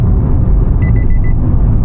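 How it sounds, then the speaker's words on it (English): Car lane assist warning beeping as the wheels cross cat's eyes on the road, a quick run of four short, even electronic tones over steady road rumble and engine drone. "you hear that? The car starts beeping."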